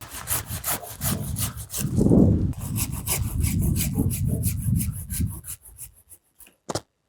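Hand saw cutting through an olive tree branch during pruning, rapid rhythmic rasping strokes that slow and stop as the cut finishes, close and clear.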